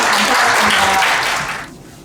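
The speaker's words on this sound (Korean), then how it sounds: "큰 박수로 환영해 주시기" A large audience claps to welcome the chair of Korea's carbon neutrality committee before a climate and energy talk, a loud, dense applause that holds steady and then fades out near the end.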